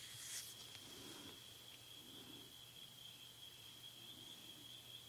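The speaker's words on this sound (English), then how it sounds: "The noise of the crickets, they can do their own thing." A steady high trill of crickets at night continues throughout, faint and constant, with a quiet hum underneath.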